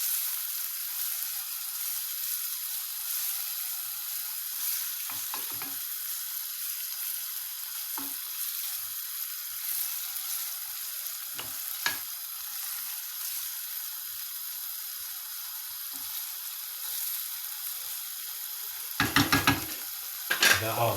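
Chicken liver cooking in cream in a pan, a steady soft sizzle throughout with occasional scraping stirs and a brief louder clatter of the spoon against the pan near the end.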